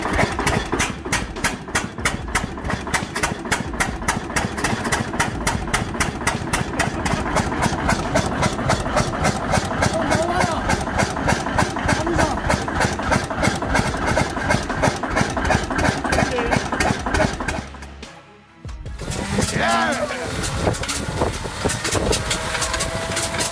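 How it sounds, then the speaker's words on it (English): A Pratt & Whitney R985 nine-cylinder radial aircraft engine of 985 cubic inches idles loudly and steadily with a rapid pulsing beat, nearby and alone, dipping briefly near the end before resuming. "With 9 cylinders and 985 cubic inches of displacement, the Pratt & Whitney"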